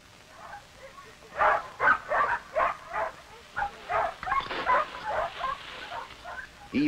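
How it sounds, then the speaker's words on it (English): Several sled dogs bark in a quick, uneven series of loud yelps, some overlapping, over a low background murmur. "Even the Grenfell doctor makes his rounds by dog team."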